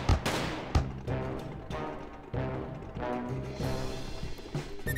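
Heavy bursts of gunfire in the video game Mafioso: Gangster Paradise, with sharp booming reports, a few strong shots followed by sustained rattling fire and ringing echoes.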